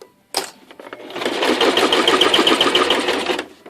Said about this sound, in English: I'm going to go over to the sewing machine and we're going to go ahead and sew this